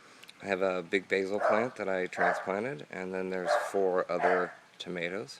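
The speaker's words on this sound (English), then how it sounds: "You can hear the dogs in the background." Dogs bark in the background of an Arizona backyard garden, faint and intermittent beneath steady close-up talking that dominates throughout.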